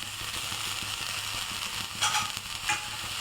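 Fenugreek greens dropped into a hot pan for baingan bharta, giving a steady close sizzle with a couple of brief louder bursts as the leaves hit the oil.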